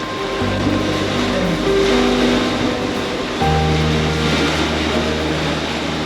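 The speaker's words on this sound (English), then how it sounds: "some of these waves just knock us around a little bit" Continuous loud rushing of waves against a sailboat hull under sail with two reefs, with a steady low engine-like drone underneath and no talking.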